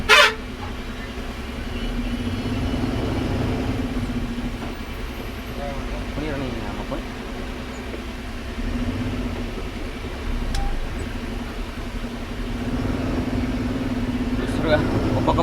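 A jam of cars and motorbikes squeezing from four or five lanes into a single lane in Jhansi produces a continuous idling engine drone and traffic hum, with people talking over it.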